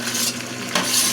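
Onions sizzle steadily in a hot pan while a spoon scrapes and stirs them, close and loud, with a brief clatter of utensil against metal.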